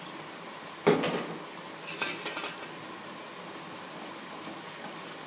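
Jackfruit pieces dropped into hot oil for chakka chips, a continuous bright sizzle with a loud clatter of a utensil against the pan near the start and a few lighter knocks after.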